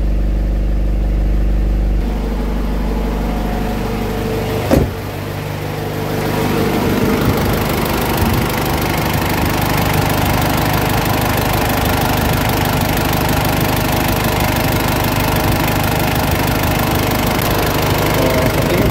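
A Ford Everest engine runs at a loud, steady idle throughout, with a brief change in tone and a sharp knock partway through before the rumble continues.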